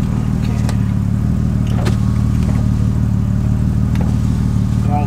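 A BMW E36 car engine idling steadily, a loud, continuous low rumble with an even throb that holds unchanged throughout, with faint clicks and knocks above it.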